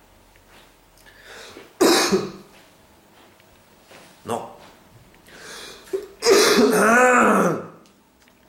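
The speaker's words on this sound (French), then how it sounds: "Je parle, j'y pense, du coup ça me fait tousser." A person coughs and clears their throat close up, in several separate rough bursts, the longest and loudest near the end, with a brief spoken word in between.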